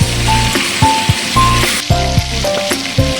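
Marinated chicken sizzles loudly with tomatoes in a hot pan as a spoon stirs it in bursts, the frying hiss steady beneath repeated scraping strokes; no one speaks.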